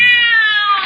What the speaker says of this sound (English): the cat screamed and leaped against the wall